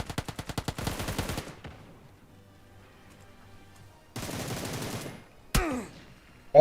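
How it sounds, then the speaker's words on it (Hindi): Rapid automatic gunfire in the mobile battle royale game PUBG: New State, a loud burst of closely spaced shots followed by a second sustained volley and a sharp single blast, with quiet gaps between. "बाहर गोली चल रही होती है"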